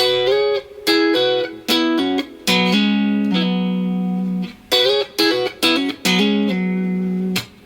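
An electric guitar plays a short syncopated phrase, clipped double-stops with hammer-ons and pull-offs and ringing notes, choppy stops between hits, clear and close.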